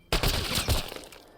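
A gunshot headshot in the video game Mass Effect: Andromeda: a loud, close burst of gunfire with a sharp onset, a second heavy crack shortly after, then a ringing tail that decays.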